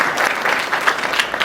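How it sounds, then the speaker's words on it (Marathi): An audience claps steadily and loudly throughout a Marathi kirtan, a dense continuous patter of many hands with small swells in intensity and no talk over it. "तुम्हाला टाळ्या वाजवायच्याच असतील."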